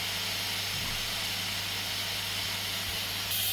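An electric pressure cooker vents steam in a loud, continuous hiss that holds steady without pause, with no talking over it.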